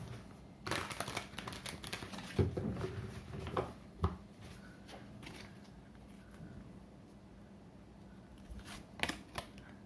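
A deck of tarot cards gets a final shuffle, giving soft, close riffling and papery flicks in short bursts, followed by quieter rustles and a couple of crisp taps, with no talk.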